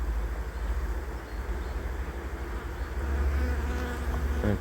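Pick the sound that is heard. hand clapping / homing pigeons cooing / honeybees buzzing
honeybees buzzing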